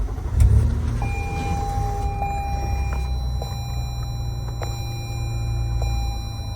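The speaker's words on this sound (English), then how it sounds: "Go ahead and start up the van." A 2020 Toyota Sienna Limited wheelchair van with a BraunAbility fold-out ramp sits running at a smooth, low idle, a steady close engine hum with a few faint electronic chimes over it.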